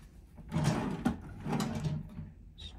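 A cabin drawer on the Carnival Glory cruise ship slides open and shut with a few soft wooden scrapes and a light knock, close by in a quiet balcony room.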